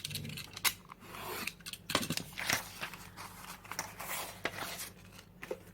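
Scissors snip through paper for an art journal collage page, a close series of crisp cuts and rustles with irregular rhythm, quiet and alone with no talking.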